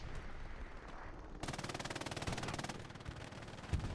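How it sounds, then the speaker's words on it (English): Rapid machine gun fire from a mounted MG in the World War II game Hell Let Loose, a steady rattling burst of shots at moderate distance after a short lull of background noise. "Will Scott on the MG suppressing the point."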